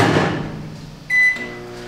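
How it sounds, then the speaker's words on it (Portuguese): A microwave oven hums as it heats chocolate to melt it, then a single sharp beep sounds near the end, close and clear. "Agora a gente vai levar no micro-ondas."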